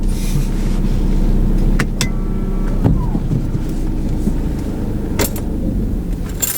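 A car's engine and road noise rumble steadily during a driving lesson, with a few sharp clicks and a brief knock partway through, close and fairly loud throughout.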